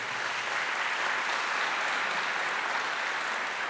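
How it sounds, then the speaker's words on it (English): Steady, dense applause from a crowd, sustained at an even level throughout with no voices standing out. "Give him a round of applause."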